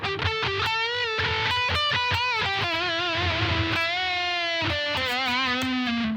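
An electric guitar played on the neck pickup with distortion, a run of picked notes and sustained bent tones with vibrato, loud and close with no talking.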